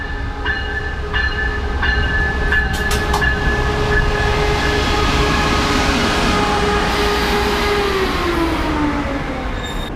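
A Metrolink commuter train rumbles steadily into a station, with metallic squeals and clicks, a descending brake tone near the end.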